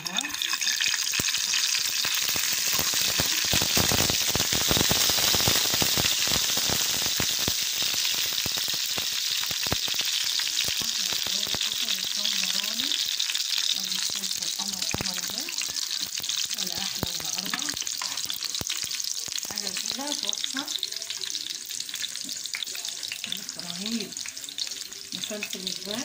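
Eggs fry in ghee in a hot pan for Alexandrian koshary, a loud, steady sizzle with bursts of stirring and scraping up close, while someone talks over it.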